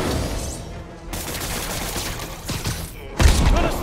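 Gunfire in the video game Marvel's Spider-Man comes as dense, sustained volleys with thumping hits and a heavy burst near the end. It is loud and continuous with little speech.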